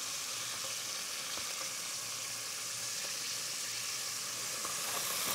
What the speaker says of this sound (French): on a fait chauffer l'huile d'olive et on va faire juste colorer les morceaux